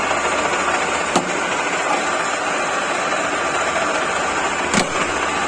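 A lathe boring a hole with a drill, spindle turning with the feed running, gives off a steady loud mechanical hum with a couple of sharp clicks, close by.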